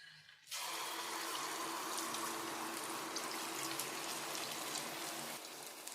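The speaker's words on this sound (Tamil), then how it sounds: "நான் பெரிய சைஸு கச்சாயம் வேணுங்கிறதுக்காக கப்பில் ஊற்றுறேன்." Sweet kachayam batter poured from a cup hits hot oil and sets off an abrupt, dense sizzle that holds steady and fairly quiet before easing slightly.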